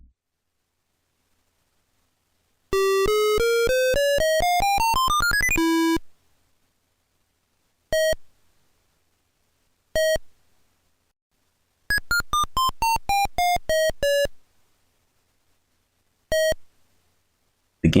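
Electronic beeps from a 1978 basketball video game: a rising sweep of tones, short isolated bleeps, another stepped descending run and a final beep, loud and clean against silence.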